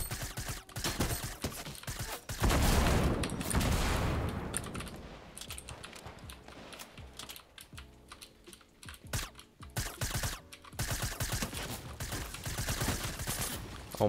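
Video game gunfire in season 8, with shotgun blasts and reloads sounding in quick, uneven bursts of sharp cracks that come loud and close, a dense stretch early on and scattered shots later.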